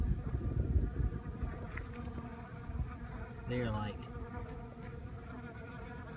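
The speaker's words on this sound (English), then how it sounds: "Look at these bees here." Dense buzzing of many feral honeybees swarming close by over old hive frames, a constant droning hum, with a brief spoken remark over it.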